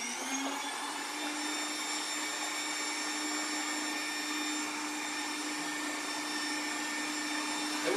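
A blender runs continuously at high speed through a mixture containing guar gum, giving a loud, steady motor whine with an even, unbroken drone.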